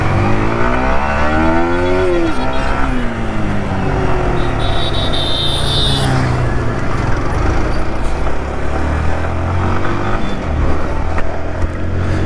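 A Yamaha motorcycle outside a Murugan temple entrance revs loudly up close and rides off, engine pitch rising and then settling into a steady droning run with rushing wind.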